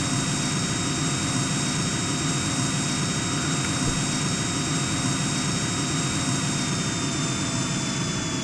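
A helicopter from the MCHeli mod in Minecraft drones steadily with a dense, unbroken engine and rotor roar that holds at a constant loudness throughout, with no talking.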